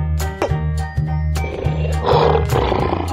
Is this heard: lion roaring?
yes